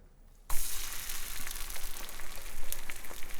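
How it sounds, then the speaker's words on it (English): A sudden loud sizzle bursts in as cornbread batter hits a hot skillet after a brief quiet moment, then continues as a steady crackling fry, close and bright. "See that sizzle right there? That's exactly what you want."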